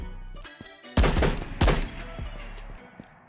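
Two loud gunshots ring out about half a second apart in the VR shooter Ghosts of Tabor, each with a booming echoing tail, amid quieter game ambience and rumble.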